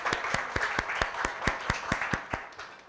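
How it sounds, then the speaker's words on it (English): An audience gives a round of applause at a speaker event, with a small group clapping in an even, fairly sparse rhythm of distinct sharp claps near the listener and no talk over it. "Please give a loud round of applause for Varadayani Chittale."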